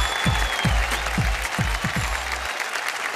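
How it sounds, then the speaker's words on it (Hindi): A studio audience on a family game show gives loud, dense applause for the Khanna family, sustained clapping with music thumping beneath it before it cuts off abruptly near the end. "खन्ना फैमिली के लिए जोरदार ताली"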